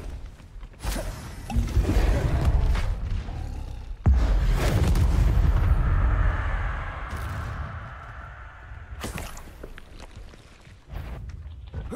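Incendio fire spells cast in the video game Hogwarts Legacy, loud rushing bursts of flame with whooshing swells and a sharp onset midway, followed by a fading roar and a final burst, no talking.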